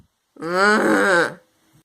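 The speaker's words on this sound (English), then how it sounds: "Sleeping and snoring." The cartoon character Red from Angry Birds makes a single voiced, groaning snore while asleep, loud and close, lasting about a second, with the throaty tone of a voice acting out a snore.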